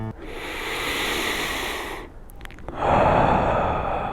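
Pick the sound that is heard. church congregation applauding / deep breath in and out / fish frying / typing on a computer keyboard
deep breath in and out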